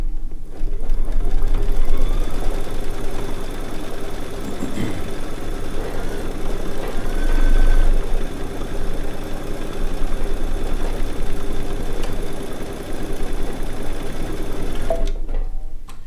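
A Baby Lock quilting machine stitches edge to edge across fabric, a steady, close mechanical whir with a fast rhythmic stitching patter that runs without a break and cuts off near the end.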